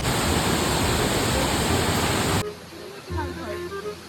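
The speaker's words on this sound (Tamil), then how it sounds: "இந்த ஃபால்ஸ் பேர் திருமூர்த்தி மலைக்கு மேலே பார்த்தீங்கன்னா இந்த ஃபால்ஸ் இருக்குதுங்க" The Thirumoorthy hills waterfall roars loud, broad and steady up close, then abruptly drops to a quieter background rush with faint scattered sounds, and no talk.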